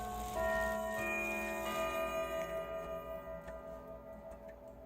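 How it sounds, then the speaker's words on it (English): A grandfather clock set for Winchester chimes rings its quarter-hour melody, with several clear, sustained bell tones overlapping and slowly decaying. The chimes are close and moderately loud, with no voices. "I had this set up for Winchester chimes."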